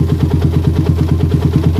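A cold motorcycle engine with a PE, PWK or PWL carburetor idles steadily up close, a loud, even, rapid low putter with no other sounds.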